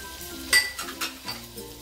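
Potato, cauliflower, peas, carrot and green beans being stirred into hot oil for veg pulao, with soft sizzling and a sharp clink of a spoon against the pan, then lighter scraping taps.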